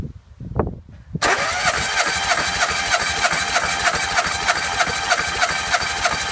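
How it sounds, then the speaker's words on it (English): A Peugeot 205 engine is cranked over during a compression test. A few faint knocks come first, then a sudden loud, continuous churning drone begins and holds steady, close by. "So we're about to turn it over, see if that makes any difference at all."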